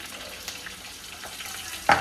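Green chillies sizzle and crackle in hot oil in a pan while a crab curry is being cooked, a low frying hiss with scattered pops that ends in a sharper, louder burst.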